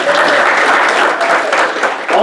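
Audience members at a local business community event give a round of applause, loud close clapping with a slight dip near the end before swelling again.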